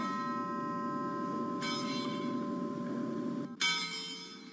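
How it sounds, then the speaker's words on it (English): Bells rung nationwide as a tribute on the day of a funeral, a steady sustained bell tone with layered ringing overtones that swell and renew partway through, loud and continuous with no voices. "Bells rang out all across the country today as a tribute to the late Congressman John Lewis on the day of his funeral."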